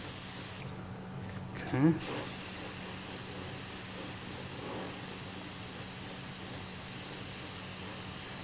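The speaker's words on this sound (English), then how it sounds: "this is a variable airbrush, so I'm very, very little fluid, mostly air, very little liquid." A variable airbrush, used while finishing a Martin 00 style acoustic guitar, gives a steady soft airy hiss of mostly air with very little fluid, running continuously under a brief spoken word and a short louder burst.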